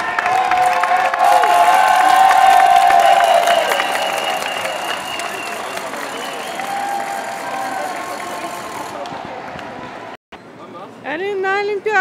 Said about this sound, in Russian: И люди опять хлопают